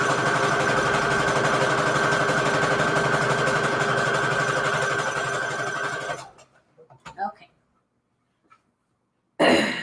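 A home sewing machine stitches scrap fabric in a steady, buzzing whir for about six seconds, then stops; a few soft handling knocks and a cough follow before the machine briefly starts again.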